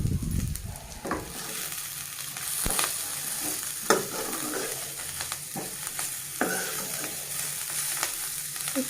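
Bitter gourd (kakarakaya) fries in a pan with a steady, close sizzle and occasional stirring scrapes, with no voices over it.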